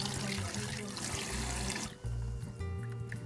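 Running tap water splashes steadily into a sink while seafood is rinsed, a continuous close wash of water that briefly thins midway, with no talking.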